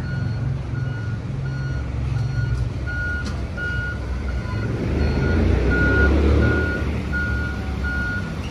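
An NYPD tow truck backs up on a city street, its backup alarm beeping in a loud, regular series while the diesel engine rumbles and swells louder midway through.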